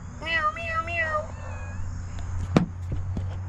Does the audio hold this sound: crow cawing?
no